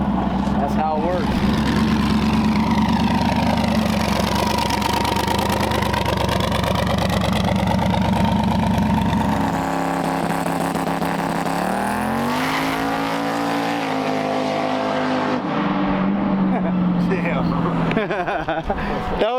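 A turbocharged race car engine runs on a test pass at a drag track, loud and close, holding a steady roar before its pitch shifts and sweeps through changing revs.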